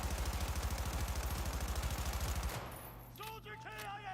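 Sustained rapid automatic gunfire in a video game, loud and close with a steady fast rhythm for about two and a half seconds, then breaking off into quieter game sounds and tones.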